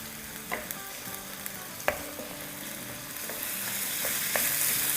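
Minced chicken keema spread out in a pan over a high flame, frying with a steady broadband sizzle, occasional louder crackles and spatula scrapes, the hiss slowly building; no one speaks.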